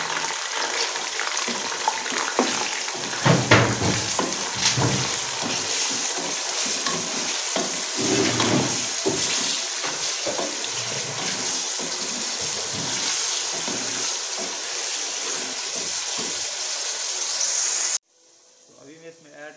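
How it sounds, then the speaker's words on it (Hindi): Gosht (meat) for matar gosht qorma fries and sizzles loudly in a pot while being stirred, with continuous hiss and scraping clatter, ending abruptly near the close. "गोश्त को इतना हमने भूनना के अच्छे से इसका रंग तब्दील हो गया"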